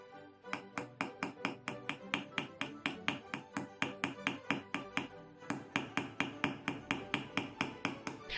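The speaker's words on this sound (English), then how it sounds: "you can kind of hammer in that design with wedge-shaped tools and make it sharper" Wedge-shaped chasing tools are hammered into a metal casting for a dinner utensil: a long, even run of sharp, ringing metallic strikes, roughly three per second with a brief pause midway, close and alone.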